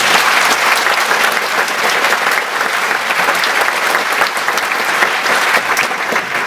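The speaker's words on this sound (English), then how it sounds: "I'd just like to give her a round of applause" Sustained applause from a sizeable crowd at a live talk, steady and dense clapping throughout with no voices standing out.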